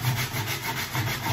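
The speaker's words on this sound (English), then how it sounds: "And again, block using 40 grit." Sanding block with 40 grit paper rubbed over wood while refurbishing a snooker table cushion, a close, steady rhythmic scraping of back-and-forth strokes with no talk.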